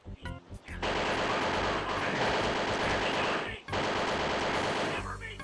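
A gun in Pirate Doom 2 fires continuously in a long, dense, roaring stream, breaks off briefly and then resumes, with a few scattered shots at the start and a voice talking.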